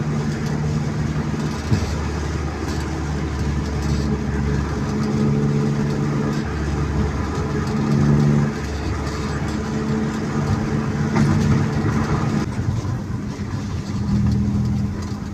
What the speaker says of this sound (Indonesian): Nah, itu kendaraan loggingnya teman-teman, full muatan